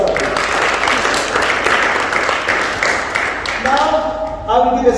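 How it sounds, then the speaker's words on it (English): An audience at a soft-skills training session gives a big round of applause, dense clapping that tapers off near the end as a voice starts talking. "Give him a big round of applause"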